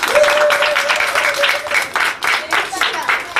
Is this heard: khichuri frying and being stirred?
no